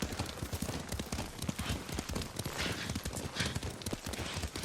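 Horse hooves clip-clop steadily in a video game as a rider travels along, a continuous rhythmic patter of footfalls under a dense, busy background.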